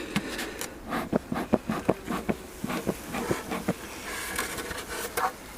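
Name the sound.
honeybees buzzing at opened hive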